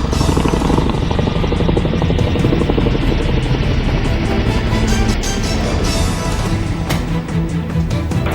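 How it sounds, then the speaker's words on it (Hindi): A Chinook helicopter carrying a container at an Air Force Day display roars loud and close, a dense continuous rotor throb with steady beating pulses throughout. "चिनूक हेलीकॉप्टर ने कंटेनर लेकर जाने का नमूना"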